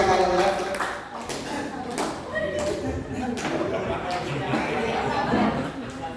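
Classroom applause for Pak Wahyu and Pak Podir at a teachers' session in a school, a ragged round of clapping from a group nearby with chatter and voices mixed in throughout.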